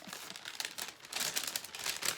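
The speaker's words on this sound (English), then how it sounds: "I'm ripping in the bag." A plastic notions bag being ripped open, quiet crinkling and tearing rustles that grow busier toward the end, close and soft with no voices.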